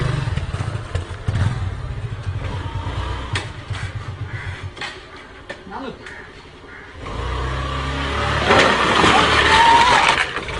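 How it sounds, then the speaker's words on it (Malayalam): A motorcycle engine revs and drones on a Kerala road during a wheelie attempt, with clattering and thuds suggesting the crash, while people talk and shout throughout. "ഞാൻ വീല് ചെയ്യാൻ പോട്ടെ"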